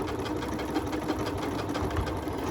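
A Janome MC9450 sewing machine stitches sideways, its steady, close motor whir carrying a fast rhythmic needle pulse that runs unbroken for the whole stretch, with no voices over it.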